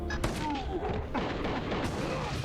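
A lock-on cannon fires cannonballs in a video game during a speedrun. Two heavy booming shots, about a second apart, rumble and decay over dense game noise.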